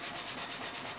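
A sawmill blade cuts timber in 1860s Norrland, a steady, dense rasping whine that fills the whole moment without pause or other sounds.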